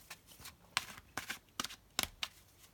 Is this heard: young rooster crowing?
no